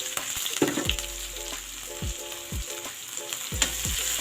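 Garlic and onion fry in a pan for chicken afritada, a continuous crackling sizzle with a few sharper pops, close and steady throughout.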